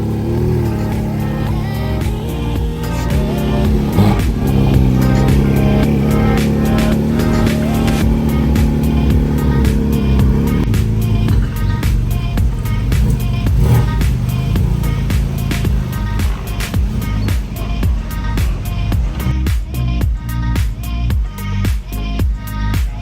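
A Porsche 718 GT4 RS engine revs loud and close, with rapid throttle blips and sustained high revs in a continuous run, with no talking over it.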